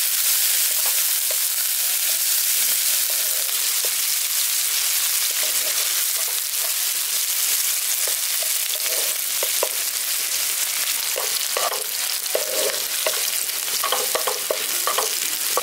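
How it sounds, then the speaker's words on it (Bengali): Chopped onion fries in oil while being stirred for green peas pulao, giving a loud, steady close-up sizzle broken by intermittent scraping strokes, with no talking. "পেঁয়াজটা দিয়ে হালকা করে এবার একটু ভেজে নিচ্ছি।"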